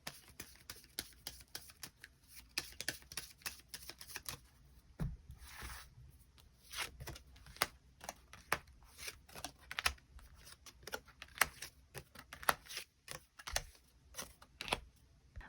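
Tarot cards are shuffled and drawn in a long run of rapid, crisp flicks and snaps, close and steady, with brief pauses between flurries and no talking.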